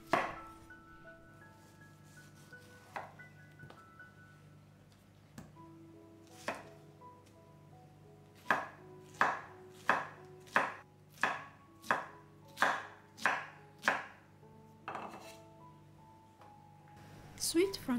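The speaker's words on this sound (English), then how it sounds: "Remove the eyes, cut the pineapple into half," A knife chops through a fresh pineapple on a board, the eyes removed and the fruit cut in half. Around a dozen sharp, evenly spaced chops come in a quick run, with a few scattered cuts and a soft background hum before it.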